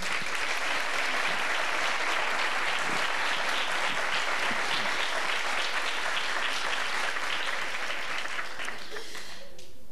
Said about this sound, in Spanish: os voy a pedir otro caluroso aplauso para ella.